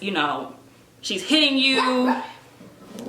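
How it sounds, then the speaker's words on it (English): A dog barks and yelps indoors, close and fairly loud, overlapping a man's ongoing speech. "Sorry, that was my dog."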